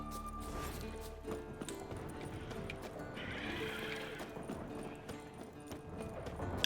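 In The Witcher 3 video game, a horse whinnies and its hooves clip-clop at a gallop, with the neigh rising clearly midway over game ambience, faint and without talk.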